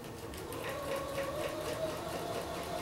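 A sewing machine stitches a quilt block seam at a quarter-inch allowance along the presser foot edge, a continuous mid-pitched mechanical whir running steadily and fairly softly throughout.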